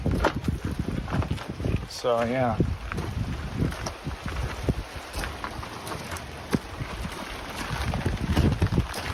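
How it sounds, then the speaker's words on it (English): Steady, heavy rain hisses in the background at a scrapyard while a person speaks briefly nearby. "And now it's pissing rain."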